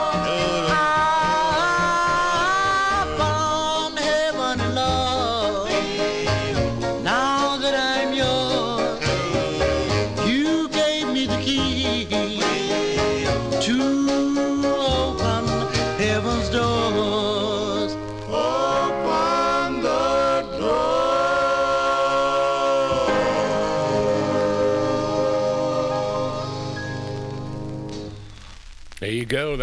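A 1956 doo-wop record, I Found Heaven in Love by the Raindrops, plays loudly: close vocal group harmonies over a slow backing, continuous throughout and fading out at the end.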